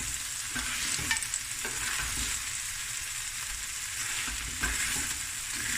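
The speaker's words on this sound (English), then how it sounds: "I'm frying this rice now." Continuous sizzling of rice with clams and crab frying in a pan, broad and steady, with occasional soft scrapes and taps as it's stirred.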